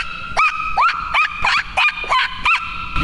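A dog gives a quick run of about eight short, high, yelping barks in a steady rhythm, fairly clear against a quiet indoor background with no talking.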